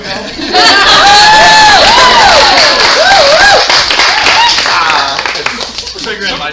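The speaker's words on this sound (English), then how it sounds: "give him a big round of applause" An improv comedy audience breaks into loud, close applause mixed with cheers and whoops, sustained for several seconds before tapering off.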